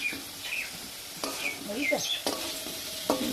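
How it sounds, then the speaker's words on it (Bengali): Meat sizzles and fries in a pan, a constant crackle with several sharp scrapes of a spoon stirring it at irregular intervals. "তো চলো এদিকে এখন মাংসটা রান্না করে নিই।"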